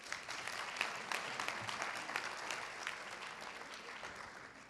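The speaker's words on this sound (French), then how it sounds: "On peut les applaudir." Audience applause following a multiprofessional panel discussion at a health professionals' plenary day, a dense, even wash of clapping that holds steady and fades slightly toward the end, moderately distant.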